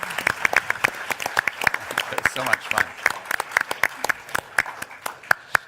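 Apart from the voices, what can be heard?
debate audience applauding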